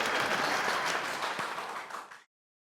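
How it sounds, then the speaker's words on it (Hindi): A studio audience in a comedy series claps in a thick, steady round of applause that thins slightly and cuts off abruptly, leaving silence. "अरे बजाओ ना तालियां।"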